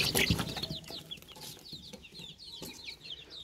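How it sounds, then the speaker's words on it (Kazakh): Eighteen American-breed chicks, two to three weeks old, cheep in a row of quick high peeps inside a brooder, close and steady, with a few louder clucks near the start. "біздің әнеуінгі 18 штук американа балапандар"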